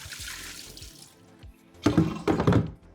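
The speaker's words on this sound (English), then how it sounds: "it's time to pour out the water, rinse the seeds out, and get them into the next step" Water is poured out of sprouting jars and broccoli seeds are rinsed at a sink, with a soft trickle followed by two louder splashing gushes near the end.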